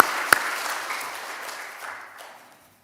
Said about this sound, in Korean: 우리 수고하신 지휘자, 반주자, 우리 대원들에게 감사의 박수, 또 하나님께 영광의 박수 부릅니다